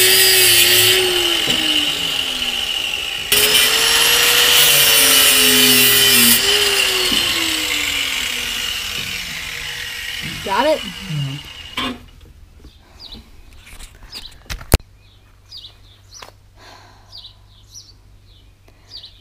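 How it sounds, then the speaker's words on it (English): An angle grinder with a cutting wheel slices through an RV's hydraulic steering lines, a loud, steady, high-pitched whine with pitch sweeps as the wheel bites and slows, then cutting off into quieter scattered clicks and handling noises. "acquire the grinder for him and a cutting wheel"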